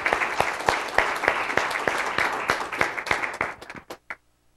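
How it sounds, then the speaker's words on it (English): An audience at a community founders forum event applauds Geraldine, a dense burst of clapping that thins to scattered claps and stops after about four seconds. "a round of applause for Geraldine and her great talent"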